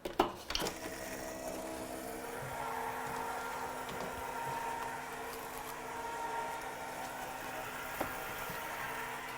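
A craft die-cutting machine pressing a card embellishment, giving a steady, quiet mechanical whir and rumble after a few sharp clicks at the start, continuing evenly with small taps.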